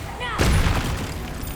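Confringo blasting spell explosion in Hogwarts Legacy, a sudden loud burst with a rumbling low tail, following a brief whooshing rise, with game effects layered throughout.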